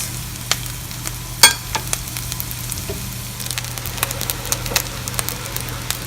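Rice for coconut rice fries in a pan on low heat with a soft, steady sizzle, broken by occasional sharp scrapes and taps of the stirring spoon, close and with no talking.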